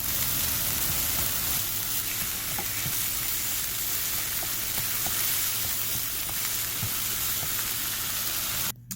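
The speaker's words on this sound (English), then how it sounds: "We're just going to go ahead and brown up this ground turkey." Ground turkey browning in a frying pan, a steady dense sizzle with occasional crackles and stirring scrapes running throughout, close and even, ending with a brief clatter.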